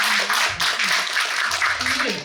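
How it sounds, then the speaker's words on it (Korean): Applause from a small audience at an evening book concert in a small community library, steady clapping over about two seconds with a voice talking over it. "설명해 주신 박준호 선생님께 큰 박수 한번"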